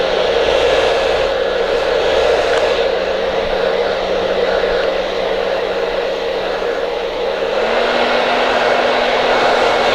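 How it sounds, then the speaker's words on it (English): A hair blow dryer running on high air, a loud, steady, close whoosh with a constant motor tone that holds throughout and shifts slightly in pitch near the end. "now I can just start like put it on high air and start blow drying the heck out of it"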